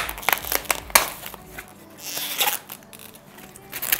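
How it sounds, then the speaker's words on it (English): Packaging for a Canon EOS R6 camera being ripped open up close, with crinkly tearing, crackling and rustling in irregular bursts and a sharp snap near the start. "rip this open."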